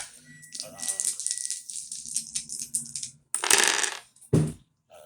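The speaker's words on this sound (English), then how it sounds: "Throwing the dice to see the overall energies for the reading." Dice thrown onto a surface during an astrology card reading, giving a quick rattle and a couple of sharp clattering tumbles near the end, with light shuffling and handling sounds before.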